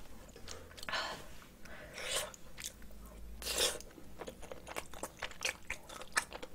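Someone eats spicy Korean cockles up close, with wet bites, crunching and chewing in loud bursts and smacking in between, and no talking.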